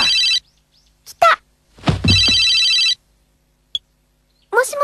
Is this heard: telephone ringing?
yes